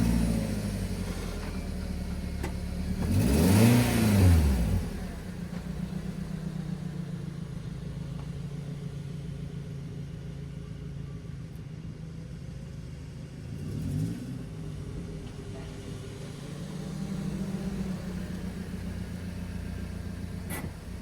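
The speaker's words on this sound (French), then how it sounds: "on va aller prendre la voiture" A car drives along a road with a steady engine hum, as another vehicle swells loudly past nearby early on, then a fainter one passes later, with rising and falling engine pitch throughout.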